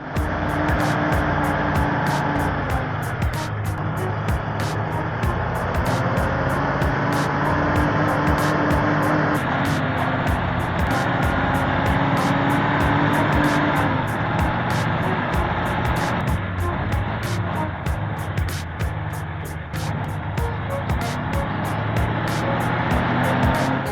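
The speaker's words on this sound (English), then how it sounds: "this truck is straining to carry a load full of timber across an equally unforgiving road" A heavy logging truck loaded with timber labours along a rough, snowy road, its engine droning steadily and loudly throughout with a constant low rumble and repeated faint rattles, no voices.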